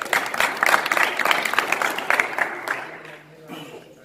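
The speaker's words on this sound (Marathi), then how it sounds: "याच्यासाठी एकदा जोरदार टाळ्या" An audience at a brain-exercise talk bursts into dense, loud clapping that carries on for nearly three seconds, then fades to a few scattered claps.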